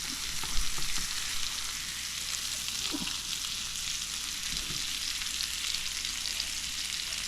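Trout fries in a pan at a Sawtooth Mountains fishing camp, giving a steady, close, even sizzle with a few faint bumps from the pan and no talking.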